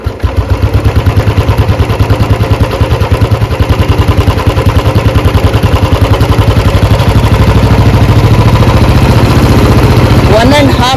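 A Royal Enfield Bullet 350 UCE single-cylinder engine runs steadily up close, its rapid even thumping filling the whole stretch and rising slightly in pace toward the end.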